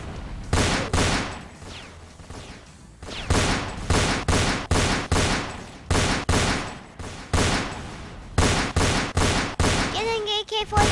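AK-47 gunfire in the Roblox Fortnite video game crackles in rapid, repeated bursts from close by, with excited voices talking over and between the shots.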